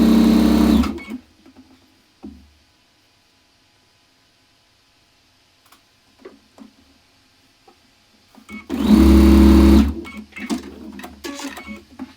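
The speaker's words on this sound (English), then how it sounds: "we've got our two halves sewn together, and now we are going to sew together" A sewing machine stitches quilt pieces together in two short, loud whirring bursts, one at the start and one near the end, separated by a long quiet stretch with faint handling clicks and no speech.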